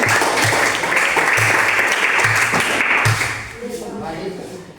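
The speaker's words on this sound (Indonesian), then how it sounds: "Ya, tepuk tangan untuk saling menghargai." Schoolchildren in a classroom applaud together in a dense, steady burst of clapping that thins out after about three seconds, with voices audible underneath.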